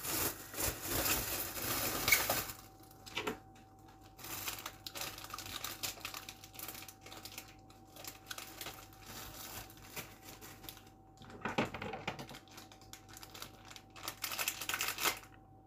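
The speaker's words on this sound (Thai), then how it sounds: "เอาไปขยำแหนมขยำในถุง" Nham, Thai fermented pork, kneaded in a plastic bag: close crinkling and rustling of plastic in irregular bursts, louder at the start and again near the end, with a faint steady hum underneath.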